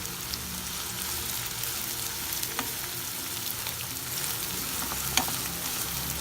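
Shredded baby shark fish scramble sautéing in a pan, a steady close sizzle and crackle with occasional stirring scrapes and taps throughout.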